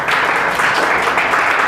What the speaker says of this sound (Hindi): इस सवाल लोगों ने भैया इनके लिए जोरदार ताली बजावल जा।